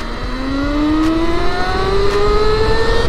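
Electric Yamaha YZ85 supermoto riding in its lowest power level, a steady rising electric motor whine climbing smoothly in pitch over constant road and wind rumble, close and fairly loud.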